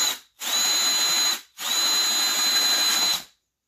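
A power drill whirs in two steady high-pitched bursts, about a second and a half each, with a brief pause between them, close and loud, while building a prop rifle.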